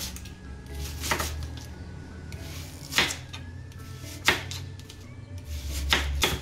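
A knife cutting an onion into wedges on a cutting board, with four distinct, fairly close chopping thuds spaced a second or two apart over a low, steady background hum.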